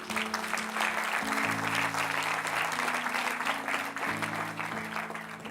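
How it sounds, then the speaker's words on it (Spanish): A church congregation applauding during a sermon, a dense and steady roar of clapping that holds for several seconds over sustained organ or keyboard chords. "Denle un aplauso al Señor."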